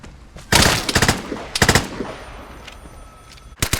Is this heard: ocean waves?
no